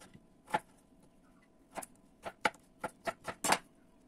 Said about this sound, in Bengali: এই আলুটাকে আমি ফটাফট ছুলে নেব। আমার এই পিলারটাতে ধারটা একটু কমে